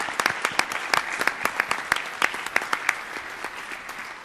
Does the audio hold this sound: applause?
yes